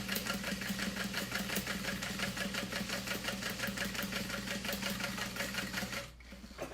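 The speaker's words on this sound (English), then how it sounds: "I'm gonna sew from the lining side just because that's where I've made the marks" A sewing machine stitches a minimalist wallet from the lining side, running in a fast, steady mechanical whir with rapid repeating needle beats that stop abruptly near the end.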